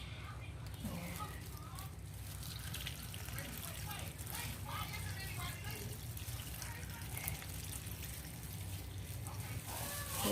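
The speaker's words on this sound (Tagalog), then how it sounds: "Lalagyan na natin ang pangalawang gata." Coconut milk being poured into a pot of Bicolano laing with garlic, onion and ginger, a continuous soft liquid stream and bubbling close by, with someone speaking over it.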